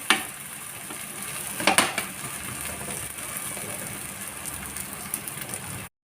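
Wheat dosa batter cooking on a hot pan gives a steady close sizzle with crackling, a brief louder burst of frying near the two-second mark, then an even hiss that carries on with no talk.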